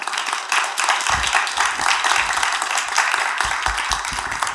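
Applause from an in-person audience at a book launch and conversation on Japanese theatre, a steady wash of many hands clapping that carries on evenly for several seconds.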